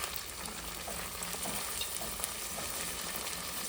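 Chopped onions fry steadily in a hot pan in a home kitchen, giving a dense, continuous close-up sizzle with faint crackles throughout and no talking.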